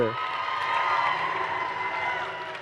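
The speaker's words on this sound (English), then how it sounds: "I do want to get one more round of applause for your game announcer" Audience applause and cheering at a FIRST Robotics state championship event in Michigan, a broad crowd roar sustained evenly for a few seconds before easing slightly at the end.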